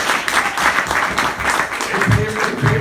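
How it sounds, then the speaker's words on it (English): A crowd applauds a donor with a steady wash of clapping at fairly loud level, and a few voices rise near the end. "Come on, give him a round of applause."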